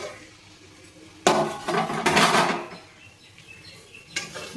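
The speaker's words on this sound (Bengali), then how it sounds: "এবার আমি ঢাকাটা খুলে দেখে নেব।" A metal lid lifted off a cooking pot of simmering potato and pointed gourd, a sudden loud clatter and rattle of metal lasting about a second, then a quieter clink near the end.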